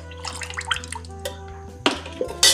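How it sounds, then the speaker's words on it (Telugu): Milk pours into a bowl for a steamed milk-pudding recipe, a short liquid trickle with faint drips and a couple of louder splashy clinks near the end, quiet and close. "ఒక గిన్నె తీసుకొని దాంట్లో పాలు పోసుకొని"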